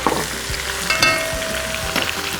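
Onion sizzling in a pan for Emirati chicken machboos, a steady close hiss of frying with a few stirring scrapes, no talk.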